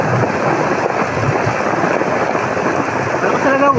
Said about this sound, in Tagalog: Hindi nahinto yung kulog.